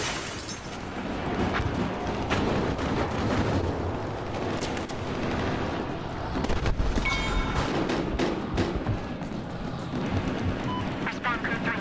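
Dense, continuous gunfire and explosions from the Battlefield Hardline heist game, loud and chaotic with rapid bursts and heavy blasts, with radio-style voices under the combat.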